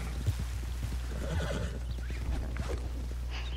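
A horse in the video game Red Dead Redemption 2 lets out a quavering whinny over a steady low hum, with a few faint hoof clops around it.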